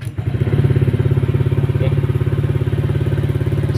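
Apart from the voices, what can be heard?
Honda Click motorcycle engine running during a test after repair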